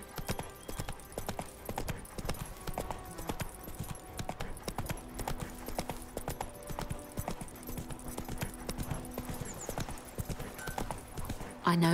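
Roach, a horse in the video game The Witcher 3, gallops steadily with dense rhythmic hoofbeats throughout, mixed with game ambience and occasional voices in the background.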